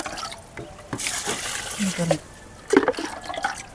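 Water splashes and trickles in short bursts, poured from a container onto soil in potted plants on a terrace garden, with gentle dripping between pours.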